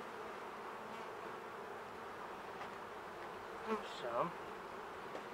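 Honeybees hum in a steady, dense drone around a beehive being moved, loud and continuous throughout, with a brief spoken word near the end.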